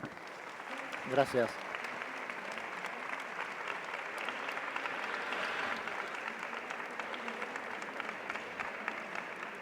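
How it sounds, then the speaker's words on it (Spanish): An audience applauds a guest speaker at a lecture on image, branding and culture, a steady room-filling patter of clapping that lasts throughout, with a brief thank-you spoken near the start. "para quien pido un aplauso, por favor"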